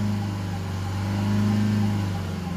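A Land Rover Range Rover Evoque 2.0 engine revs under acceleration, a steady mid-pitched hum with a low droning tone rising slightly, heard alone and fairly close.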